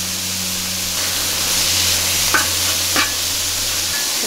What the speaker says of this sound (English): this is lean ground beef. Okay, and I'm adding about a tablespoon of the taco seasoning